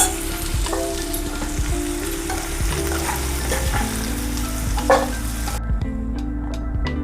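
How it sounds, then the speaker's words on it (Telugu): Peas and potatoes fry steadily in a covered pan for aloo matar, a continuous sizzle with small crackles and pops, close and alone. "ఇప్పుడు మూత పెట్టేసి కంప్లీట్గా బఠానీ ఫ్రై అయ్యేంత వరకు చూద్దాం"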